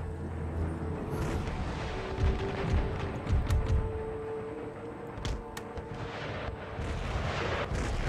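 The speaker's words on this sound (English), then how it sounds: "Artillery doing some glorious work." Howitzer artillery in the video game Empire Total War, a continuous rumble of distant cannon fire with occasional sharper cracks and booms rolling over each other in a dense, sustained barrage.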